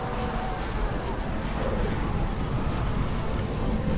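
Galloping horse archers in a Battle for Middle-earth II strategy game mod, a dense continuous drumming of many hooves under the busy clatter of battle.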